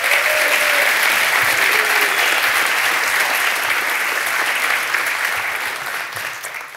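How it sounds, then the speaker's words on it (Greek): A large audience claps at an event, a loud continuous wave of applause that holds steady and then gradually tapers toward the end. "Ένα χειροκρότημα και στην Σοφία Ρομπόλη που είναι πάντα εδώ."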